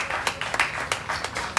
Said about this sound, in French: On l'applaudit pour sa présence ici.